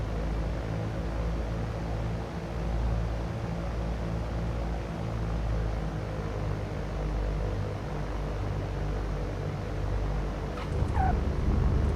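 A propeller aircraft engine drones steadily in the X-Plane 11 flight simulator game as the throttle is eased back, with a continuous, loud low hum and no speech over it.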